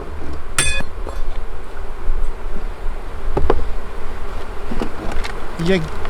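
Honey bees buzz loudly and continuously around an open beehive, with metallic clinks and taps from hive tools or frames scattered through the drone.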